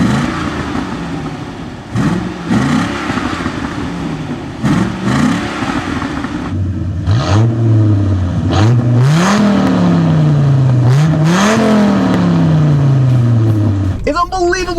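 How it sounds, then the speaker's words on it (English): Engines of a Chevy Corvette ZR-1 with a dual overhead cam 32-valve engine and a Dodge Viper rev loudly, rising and falling in repeated sweeping pulls and blips, close and strong, ending with a sudden burst of noise. "We got a dual overhead cam 32 valve engine."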